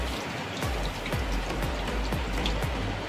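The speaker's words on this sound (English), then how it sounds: "First, wet your hand with clean running water." Tap water running steadily during handwashing, a broad continuous splashing rush with small droplet patters, heard alone and close.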